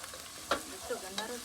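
Onions fry in a pan while a utensil stirs them, with a quiet continuous sizzle and three brief scraping strokes.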